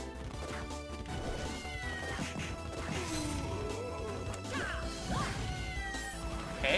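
Cat meows from the video game Castlevania: Order of Ecclesia, several short rising cries over a dense, continuous game soundtrack with crashing impacts and swooshes.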